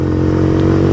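A Zongshen 200 Skyline motorcycle in third gear, its engine droning loud and close with a steady, unbroken roar.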